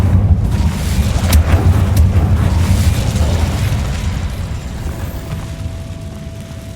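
A fire spell being cast in Hogwarts Legacy: a loud, rumbling whoosh with deep low-end roar that gently fades over several seconds, accompanied by brief crackling bursts near the start.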